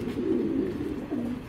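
A male racing pigeon brought in from the United Kingdom coos close by, two low rolling phrases over faint background hiss.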